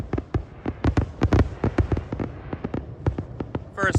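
Canister shell fireworks burst in a rapid, irregular barrage of loud booms and crackling pops at a small-town display, the explosions overlapping densely with a faint whistle near the end.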